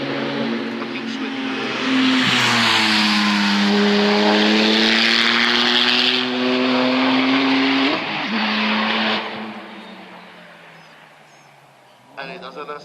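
Race car at the Chamrousse hill climb, driven by Jean-Michel Godet, roars up through the gears with a loud rising engine whine and a brief gearshift dip before fading into the distance, with a commentator's voice over it.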